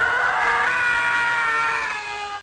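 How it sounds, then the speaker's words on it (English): A sustained, high-pitched stock movie scream known as the Howie scream, a single drawn-out shriek lasting about two seconds, loud and close, cutting off abruptly at the end. "the Howie scream, which sounds like this."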